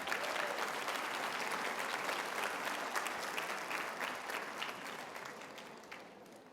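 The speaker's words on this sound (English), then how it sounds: "give yourselves a round of applause" Sustained audience applause at an opening presentation on dual-language education, a dense wash of many hands clapping that stays steady, then slowly thins and fades toward the end.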